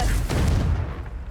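A blasting-spell explosion in Hogwarts Legacy gives a loud, dense boom that rumbles and fades over about a second, with no talking.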